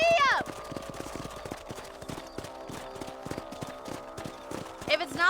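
Horse hooves clip-clop at a steady riding pace in Red Dead Redemption on PS4, rhythmic thuds carried under game music and voices, with a brief whinny-like swell at the start and end.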